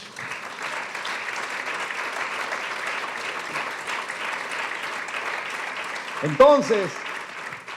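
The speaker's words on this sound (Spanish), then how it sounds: "dale un aplauso" Steady applause from a church congregation, a broad, even patter of many hands that carries on for several seconds before a voice briefly cuts in over it near the end.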